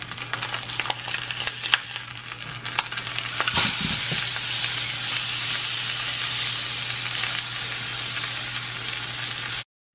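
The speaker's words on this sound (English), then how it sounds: "now I'm going to sear it skin side down" Snapper fillet seared skin side down in hot olive oil, with a steady, loud sizzle that swells after a few seconds and holds dense and close throughout, with a few light clatters early on.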